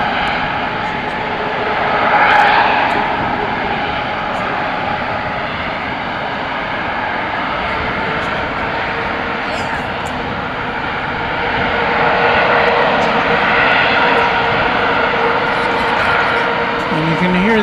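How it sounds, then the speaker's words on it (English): Aerologic cargo jet taking off at night on a long runway at DFW Airport, a steady broad engine roar that swells twice as it passes, with voices talking faintly over it. "This is the Aerologic headed to Frankfurt. It's about a third of the way down the runway"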